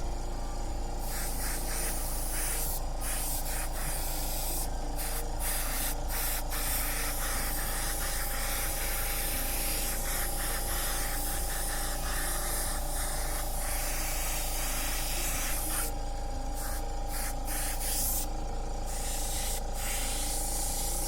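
An airbrush sprays neon paint in a continuous close, airy hiss, broken by brief pauses as the trigger is released and pressed again.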